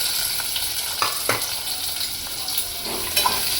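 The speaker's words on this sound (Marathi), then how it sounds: "सर्वात आधी मी तेजपत्ती आणि लसूण घालून घेते आणि लगोलग त्याच्या मागोमाग लगेच आपल्याला कांदा घालून घ्यायचा" Chopped onion fries in hot oil with bay leaf and garlic, a steady close sizzle with a few soft scrapes of stirring, no voices.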